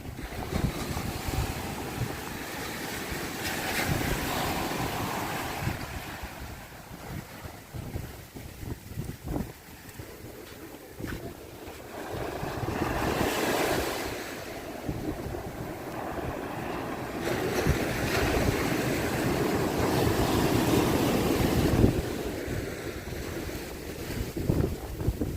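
Strong nor'easter wind and storm waves at Sheepshead Bay in Brooklyn roar in continuous gusts, with heavy wind buffeting the microphone and surf churning loudly underneath throughout.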